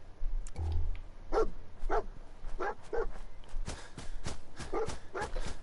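Dogmeat, the canine companion in Fallout 4, barks in short repeated bursts over a steady game ambience, with faint footsteps in the mix.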